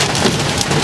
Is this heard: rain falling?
yes